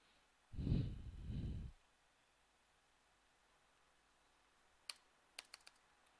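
A handful of quiet key presses on an HP Elite x2 1012 G1 convertible laptop keyboard, sparse clicks near the end, preceded by a soft breathy exhale in an otherwise hushed room.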